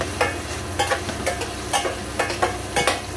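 Onion sautés with garlic in a pan for chicken adobo, a soft steady sizzle broken by regular spoon scrapes and stirring clatters roughly every half second, close by with no talking.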